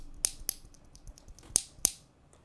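Mechanical keyboard switches are pressed in a few sharp, close clicks, two quick ones, a pause, then two more, with softer faint tapping between them.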